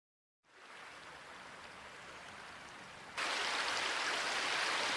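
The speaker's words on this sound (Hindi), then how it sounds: "मुझे तो लगा था रात में हल्की बारिश होगी, पर ये तो उम्मीद से ज्यादा है।" Steady night rain, heavier than light drizzle, hisses after a brief silence, then abruptly grows louder and brighter partway through, continuing evenly with no voices.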